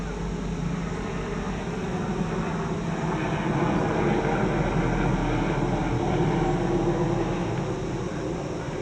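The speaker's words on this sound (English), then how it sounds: "Oh, we got a helicopter coming by." A helicopter drones past at a distance, a steady rumbling roar that swells slightly in the middle; no voices.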